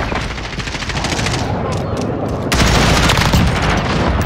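Sustained, loud automatic gunfire from Call of Duty: Modern Warfare team deathmatch, a dense rattling stream of shots with booms mixed in that grows heavier and louder partway through.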